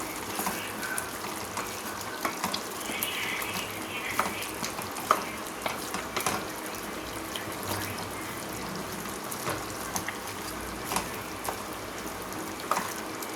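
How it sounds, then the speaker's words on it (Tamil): Chicken cooking in its own juices in a covered pan, bubbling and sizzling steadily at low volume with scattered small pops and clicks, no talk. "பாருங்கள் இந்த அளவுக்கு கொதிக்குது"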